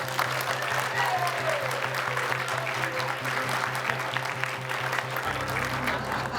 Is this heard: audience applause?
yes